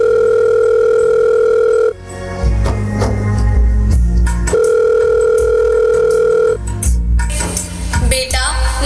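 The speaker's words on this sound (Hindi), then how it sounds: "अभी फोन करती हूँ बेटे को कि इसी वक्त मुझे यहाँ से घर ले जा।" A telephone ringing tone on a call, heard as loud repeated two-tone beeps in long bursts, with music and clattering sounds between them at a school annual function stage performance.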